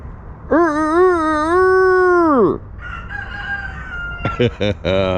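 A rooster crows loudly and close by, one long sustained call that drops off at the end, followed by shorter clucking calls.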